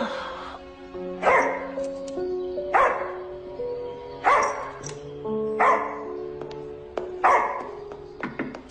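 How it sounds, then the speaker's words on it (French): A dog barks indoors in a string of about six loud, evenly spaced barks, with quiet background noise between them and little speech. "Il aboie beaucoup, mais il est pas méchant."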